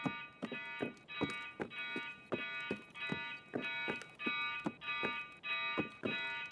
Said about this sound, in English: Super scared by that beeping.